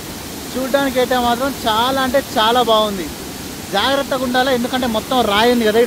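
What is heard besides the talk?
waterfall roaring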